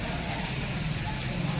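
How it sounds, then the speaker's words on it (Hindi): Heavy rain mixed with falling hail pours down steadily and loudly, a dense continuous hiss with scattered pattering impacts throughout, no voices. "ये देखो यहाँ पर ओले पड़ रहे हैं हमारे यहाँ पर।"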